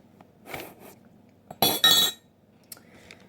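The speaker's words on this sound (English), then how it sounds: "Let me just find somewhere to set the spoon." A spoon is set down on a kitchen counter in a home kitchen while grits are being made. Two sharp, close metallic clinks ring out in quick succession, with a few fainter taps before and after.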